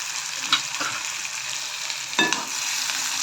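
Onions fry in a pan while they are browned for a tomato dish, giving a constant sizzle broken by a few sharp spatula scrapes as they are stirred, with no one talking.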